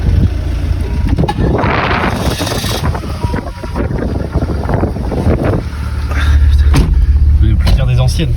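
An old car drives around the block, its engine heard from inside under heavy wind rumble with people talking over it.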